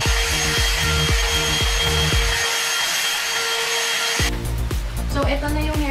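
Hot air brush hair dryer and volumizer running loud and close as it dries and curls nearly dry hair, a steady blowing whir with repeated brushing strokes, cutting off near the end before restarting briefly.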